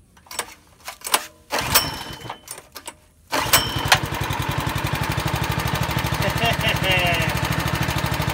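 A Predator 212cc engine on a Harbor Freight trash pump after a carburetor replacement: a few pull-start attempts with clatter and a voice, then the engine catches and runs with a loud, steady, rapid chugging beat close by.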